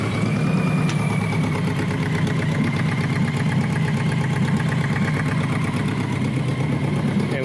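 A 1986 BMW K100 motorcycle engine idles steadily just after starting up, a close, continuous mechanical thrum with a fast, even pulsing rhythm and a faint ticking layered over it throughout.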